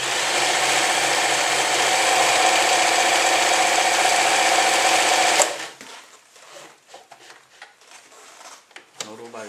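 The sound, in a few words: Elna 393 sewing machine stitching at 0.7 stitch length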